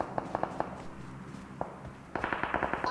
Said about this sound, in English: I just got shot up